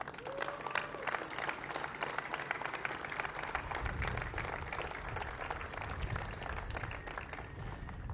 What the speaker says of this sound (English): I'd love to give a great round of applause to Eric Tohier